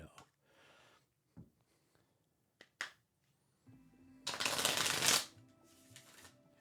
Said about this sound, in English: I'm getting better at shuffling